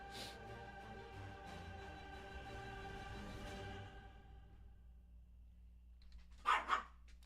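A pet dog named Largo barks in two sharp, loud bursts near the end, following several seconds of quiet background music and low room tone.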